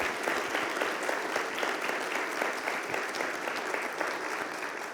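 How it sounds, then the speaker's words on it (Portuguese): A conference audience at a liberty event in Latin America applauds President Macri with steady, dense clapping throughout, close and even, no voices over it. "Eu peço uma salva de palmas para o presidente Macri."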